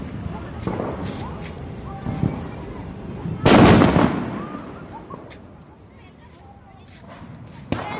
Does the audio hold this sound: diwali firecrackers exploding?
yes